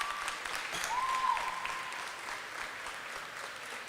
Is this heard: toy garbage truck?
no